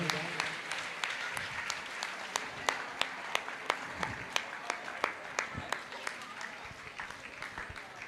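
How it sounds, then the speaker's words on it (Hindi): An audience at a Bhaktambar camp in Lalitpur claps steadily to encourage a child, a dense wash of applause with a few sharper individual claps standing out throughout, moderately distant. "हम जब तक ताली बजाते रहें, ऐसे बच्चे का उत्साह वर्धन करते रहें।"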